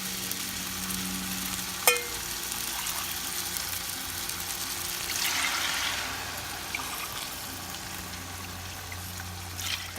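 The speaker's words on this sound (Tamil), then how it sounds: "தண்ணி ஃபுல்லாக ஊற்றியாச்சு. 6 கப்ஸ் தண்ணி." Six cups of water poured into a pot of South Indian Chettinad-style mutton biryani, giving a steady close hiss and sizzle with a sharp click early on and a louder rushing swell midway; no talking.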